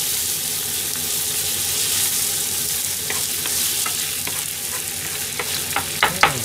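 Rice and bacon simmer in a frying pan for a Japanese-style chicken paella, a loud steady sizzle and bubble with a few scraping stirs near the end.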